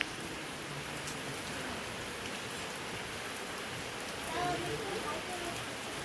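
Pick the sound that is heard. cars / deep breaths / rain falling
rain falling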